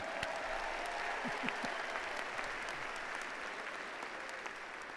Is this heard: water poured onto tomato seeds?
no